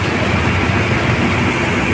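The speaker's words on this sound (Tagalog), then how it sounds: "genset ngayon yung nagpapaandar ng mga motor" A generator set runs under a load test, powering motors, a loud, steady, unbroken engine roar with dense low rumble and no voices.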